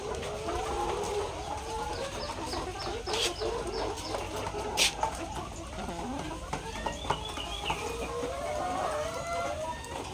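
Chickens cluck and murmur steadily in a school chicken coop, with occasional sharper squawks and calls scattered over a busy, close farmyard background.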